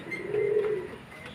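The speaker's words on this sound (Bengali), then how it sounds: "আরেকটা পায়রা দেখুন খুব ভালো কোয়ালিটির পায়রা" A single soft pigeon coo sounds close by, one brief rounded call rising and fading within about a second.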